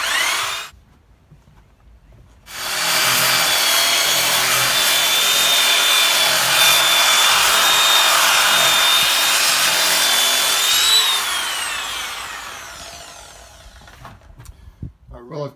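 A Restore tool rounds off the edge of a wooden board during a goat milking stanchion build: a loud, steady abrasive whine starts abruptly after a quiet pause, holds for about nine seconds, then fades out.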